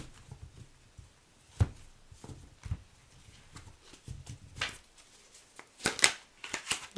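Tarot cards are shuffled in soft, irregular bursts of riffling and tapping, quiet and close, with short pauses between handfuls.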